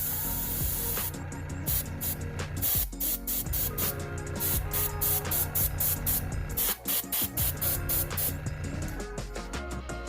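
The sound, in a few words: airbrush spraying gray paint on a model horse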